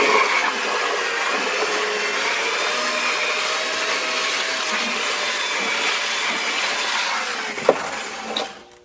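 Concrete countertop mix with superplasticizer being mixed, likely by a power mixer, giving a steady loud whirring drone throughout with a couple of brief knocks near the end; no speech.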